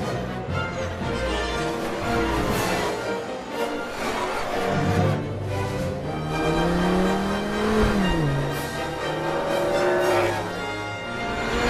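Race cars roar through a race in a Cars 3 remake, engines revving loudly with a rising and falling pitch as one passes, dense continuous motor noise and no talk.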